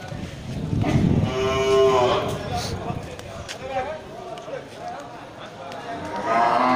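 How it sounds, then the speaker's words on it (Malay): Aceh cattle low and moo loudly at close range at a livestock market, one long drawn-out call standing out over a busy crowd of voices and market bustle. "kita sorot untuk jenis sapi Aceh juga"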